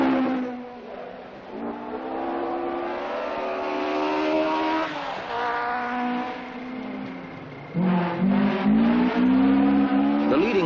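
Rally cars in the 1976 Scottish Rally run a winding tarmac stage of about 1.5 miles near a wildlife park, with engines revving and changing pitch continuously, loud and close, and a sharper, louder burst of acceleration near the end.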